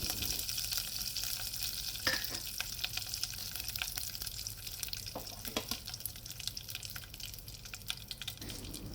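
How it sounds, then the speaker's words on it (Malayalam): Mustard seeds, dried red chillies and curry leaves sizzle in hot coconut oil for a Kerala chickpea fry, a steady crackling fry with scattered pops and spatters throughout. "എണ്ണ ചൂടായതിനു ശേഷം 1/2 ടീസ്പൂൺ കടുകിട്ട് കൊടുക്കാം"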